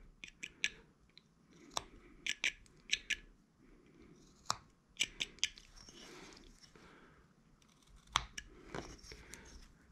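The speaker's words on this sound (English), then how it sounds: "Now we're going to cut up to that line." Knife blade whittling wood while carving the mouth of a small figure, giving sharp scraping cuts in irregular bursts, close and fairly quiet, with hushed pauses between strokes.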